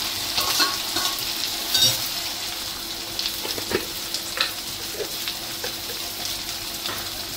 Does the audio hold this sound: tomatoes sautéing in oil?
yes